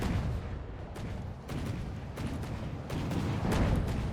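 Naval shells fire from a battleship in a warship video game, rolling out as a dense run of deep booms and cracks layered over a continuous rumbling battle din.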